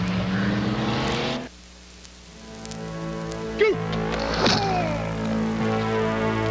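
Stock cars racing on the Bryar Motorsports Park oval in 1985: a loud roar of engines that drops back briefly, then builds again as cars sweep past nearby with rising and falling whines.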